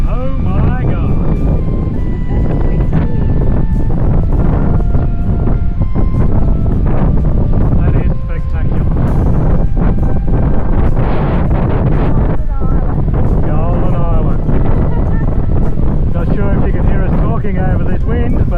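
Strong coastal wind on the Eyre Peninsula buffets the microphone in a loud, constant rumbling roar, and people talk over it throughout.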